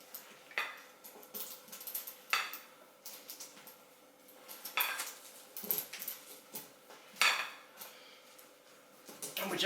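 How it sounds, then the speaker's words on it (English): Irish soda bread ingredients are stirred in a bowl, with irregular scraping and clinking of a utensil against the bowl, moderately close and fairly quiet. "And we're just going to mix that in."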